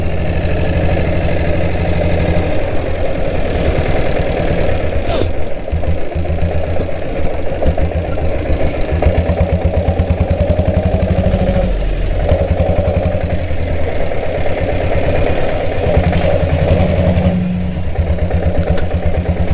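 A diesel Bullet motorcycle engine runs steadily the whole time, a close, continuous low thumping idle with a slightly knocking, uneven rhythm and no talking.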